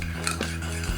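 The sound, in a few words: spoon mixing almond oil and aloe vera gel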